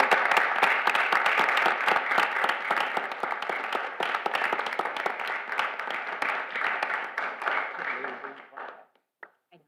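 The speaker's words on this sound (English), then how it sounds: "give him a round of applause for all his hard work" A crowd applauds steadily for several seconds, dense clapping that thins out and stops near the end.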